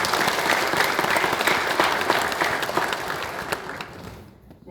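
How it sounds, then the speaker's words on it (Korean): Congregation applauding at a 2023 Easter joint worship service in Sejong City, Korea: dense, sustained clapping from a large crowd that fades out near the end. "박수를 올려드리겠습니다"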